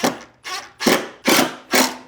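Power drill driving a screw into wood for a homemade golf game, heard as five short, evenly spaced whirring bursts, each about a third of a second long, close up and loud with no voices.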